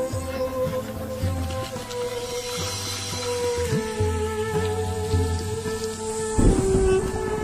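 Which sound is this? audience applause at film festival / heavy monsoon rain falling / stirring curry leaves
heavy monsoon rain falling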